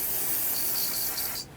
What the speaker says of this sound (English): If needed, you can rinse it with some brake parts cleaner.